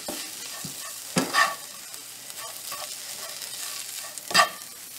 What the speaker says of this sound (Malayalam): ഇതിലേക്ക് നമുക്ക് ഷ്രെഡ് ചെയ്ത് വെച്ചിരിക്കുന്ന ചിക്കൻ ഇട്ട് കൊടുക്കാം. ഇത് നന്നായി വഴറ്റിയെടുക്കാം.